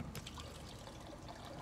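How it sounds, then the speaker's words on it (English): Water trickles and pours from an office water cooler in the sci-fi horror video game SOMA, a faint, steady liquid dribble with a light tap at the start, heard alone. "let's check out this water cooler here."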